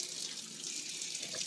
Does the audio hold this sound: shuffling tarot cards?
no